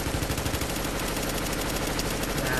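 Rapid automatic gunfire from a firefight in the Dark Zone of The Division, a dense, continuous stream of shots with a steady, loud crackling rhythm over the full stretch, no talking.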